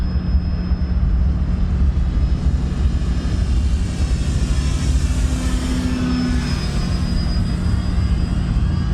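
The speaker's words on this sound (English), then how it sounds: "Running low on power, let's just do a nice slow flyby." A radio-controlled Turbo Timber Evolution floatplane makes a slow flyby, its electric motor and propeller giving a steady, fairly loud whirring drone that holds level throughout with no talk over it.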